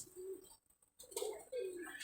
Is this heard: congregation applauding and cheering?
no